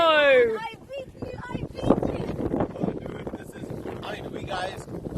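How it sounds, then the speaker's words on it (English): Gusty wind buffets the microphone on a dormant volcano crater at Curepipe, a loud low rumble under steady talking, with a brief high whistling tone at the start. "It's pretty windy."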